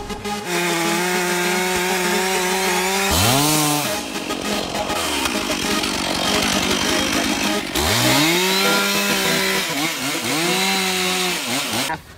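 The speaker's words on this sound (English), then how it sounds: "bore right into the tree, go through the whole entire tree" Chainsaw boring into a leaning tree during felling, loud and close, with the engine revving high under cut load, dropping back to idle twice and then revving again.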